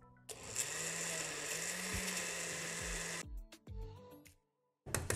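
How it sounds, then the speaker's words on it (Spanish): Blender whirring loudly through banana cake batter with milk for about three seconds, then cutting off with a few short bumps and clatters. "Y otra vez a licuar."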